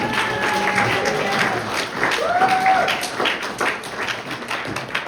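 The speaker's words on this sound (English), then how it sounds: "Can we give a round of applause for Gabe?" A crowd at a Wyoming state representative campaign event applauds campaign manager Gabe, a steady round of clapping with a few voices and whistle-like tones rising over it before it gradually softens.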